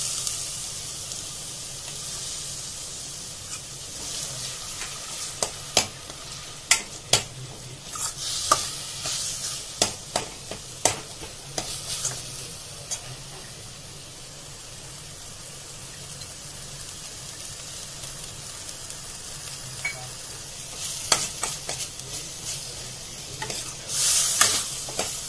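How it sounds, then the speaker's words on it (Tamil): Onions sautéing for Tamil-style egg kurma in a pan that already holds green chilli and ground fennel: a steady soft sizzle carries through, broken by sharp scraping stirs that come in clusters, with no talking. "இப்ப வந்து இதுல ஆனியன் சேர்த்துக்கிறேன் வதக்க"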